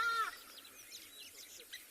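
Hadeda ibis giving a loud, harsh call at the start, then fading into softer overlapping bird calls during a sunset safari outdoors.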